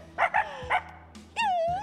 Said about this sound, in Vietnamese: khỉ nghe chó sủa hết rồi